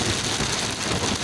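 Sudden rain at a fishing spot at Indah Chalet, Dataran Bengkoka, Pitas, heard as a loud, dense, continuous wash of rainfall close by.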